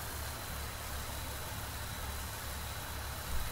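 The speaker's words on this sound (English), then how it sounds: "Listen to that truck's whistle. It's like it's got a nasal problem." A truck engine in the Farming Simulator 19 video game idles steadily with a low rumble, while a thin, constant high whistle rides on top throughout.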